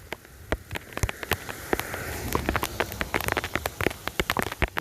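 Rain falling outdoors by a bridge ahead of a major storm, a soft steady patter under a series of sharp, irregular drip and tap impacts close by, with no talking.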